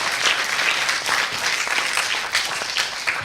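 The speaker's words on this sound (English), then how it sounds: "Give them another round of applause." A science-communication competition final audience gives a full round of applause, many hands clapping in a thick, continuous roar that stays loud and even from start to finish.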